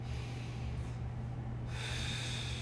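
One deep breath drawn in through the nose, close and clear, rising into a long airy inhale during a relaxed mobility exercise on a foam roller.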